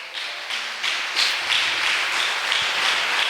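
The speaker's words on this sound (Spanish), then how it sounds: "Dele un fuerte aplauso al Señor." A church congregation applauding, a dense steady wash of many hands clapping together, close and loud throughout, with no speech.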